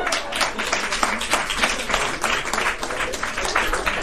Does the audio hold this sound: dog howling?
no